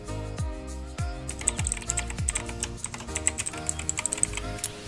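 Rapid keystrokes on a computer keyboard, loud and close, clattering in a dense irregular stream over a steady background tone, with no voices.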